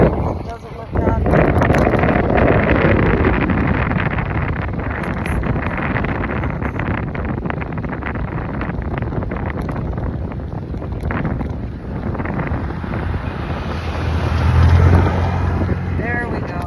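A car passes an e-scooter rider on a road, its broad swell rising loud and close in the opening seconds, then fading under steady heavy wind buffeting on the microphone.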